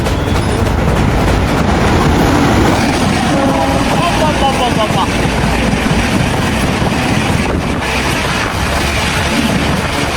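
An MGR Chennai Central superfast express thunders through a station at speed, a loud continuous rumble of rail wheels and rushing air filling the whole stretch.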